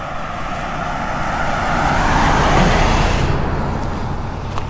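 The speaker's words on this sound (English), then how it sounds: "All the cars are dodging us." Steady roadway traffic noise with cars going by on a nice breezy day, a continuous whoosh swelling toward the middle as a vehicle passes close, with no talking.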